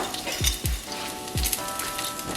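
Garlic hitting a hot pan while browning for shepherd's pie, giving a steady close sizzle broken by a few low thumps and stirring knocks, with no talk.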